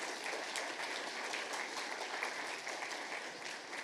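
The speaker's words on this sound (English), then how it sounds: "One more round of applause for all of our speakers" Conference audience applauding its speakers: dense, steady clapping from a full room that holds evenly for several seconds, moderately distant with no voices on top.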